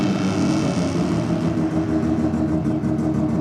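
A drag race car from Aeroflow launching off the line, a loud, close engine roar with a steady rumbling drone throughout, no voices over it.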